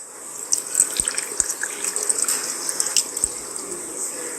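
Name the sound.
water poured into a rock tumbler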